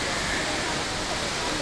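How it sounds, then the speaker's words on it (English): A waterfall on the Bolaven Plateau in Laos roars as a steady, dense wash of falling water, loud and continuous throughout. "I'm here at waterfall number 9 of the day."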